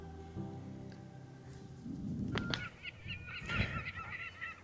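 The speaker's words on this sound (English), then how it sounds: "Look at all the birds feeding off of it." Geese honk in a flock feeding at a very salty lake with the Sierra Nevada nearby, several calls rising at moderate distance over a low wind rumble.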